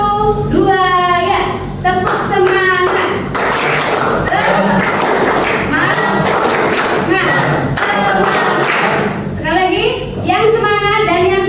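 Schoolchildren in a classroom perform a rhythmic 'tepuk semangat' clapping chant, with loud patterned handclaps and thumps woven through their chanting voices, close and energetic.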